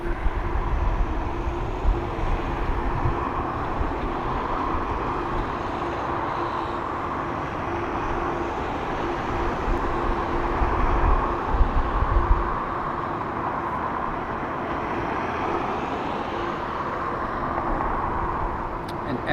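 A Ryanair airliner arrives at Dublin Airport with a steady, broad jet roar that builds slightly toward the middle and then holds, heard from a distance with no voices.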